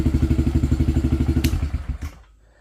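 2008 Suzuki DS450 ATV engine idling up close with a fast, even thumping beat, then sputtering and dying out near the end.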